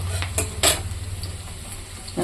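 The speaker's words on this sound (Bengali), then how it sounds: "পেঁয়াজটা খুব লাল করে ভাজবো" Onions sizzle in a pan as they brown for a Bengali radish and fish curry. Brief stirring scrapes and utensil clinks cut through the steady frying at close range.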